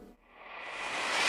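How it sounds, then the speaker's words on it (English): Vinyl crackle samples fade in from near silence, a hiss of crackling noise swelling steadily louder and brighter over a little more than a second. "I took some random ass vinyl crackle samples and I just faded them in"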